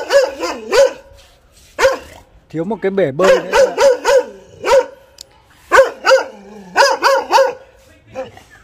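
A small dog barks repeatedly in sharp close bursts with short yips, clustered in quick runs at a two-story Japanese-roof garden villa, while a person talks.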